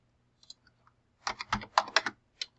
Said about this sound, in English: I'll just type that in at 29-10